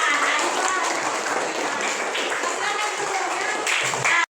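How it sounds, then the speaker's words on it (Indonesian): Classmates applaud after a group presentation in a teacher-training class, a brisk burst of clapping from a small room that carries steadily for a few seconds before cutting off abruptly. "Oke, tepuk tangan."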